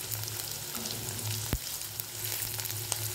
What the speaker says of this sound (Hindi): प्याज को थोड़ा सा हम गोल्डन ब्राउन होने देंगे।